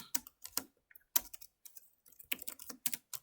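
Python code is typed on a computer keyboard in irregular bursts of crisp, close key clicks separated by short pauses.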